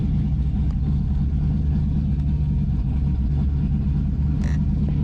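Cold Z28 car engine idling untouched at about 1,000 rpm, a steady, close, low rumble with an even throb throughout and no revving, no talk over it.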